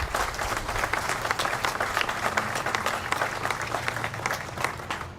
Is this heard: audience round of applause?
yes